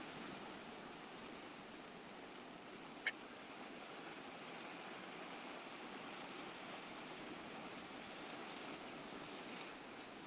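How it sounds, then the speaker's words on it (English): Ocean water surges and washes back off the shore in a steady, fairly close roar, with a single sharp click partway through and wind buffeting the microphone. "And watch the water washing out here."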